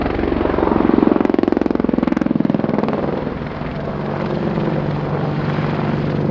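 A military aircraft at the RIAT 2019 air show makes a loud, continuous, pulsing engine and rotor roar that swells and then eases slightly, with no voices.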